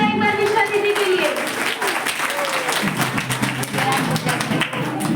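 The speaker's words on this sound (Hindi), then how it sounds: "तालियां हो जाए एक बार निष्ठा दीदी के लिए" At a girls' school farewell ceremony, students clap together in a loud, close, continuous burst, with voices and a rising tone mixed in over the first part.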